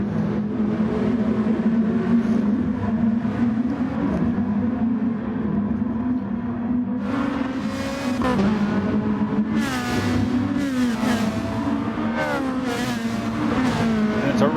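Race cars drone through a GT Sport Nations Cup online race, a steady close engine hum rising into revving gear changes and sweeping pitch shifts as the cars head down the straightaway, with no talk.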